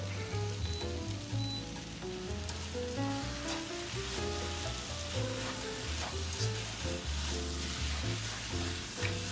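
Maggi goreng noodles fry in a hot pan with a dense, constant sizzle and crackle, punctuated by scraping and stirring clinks, close up with no talking.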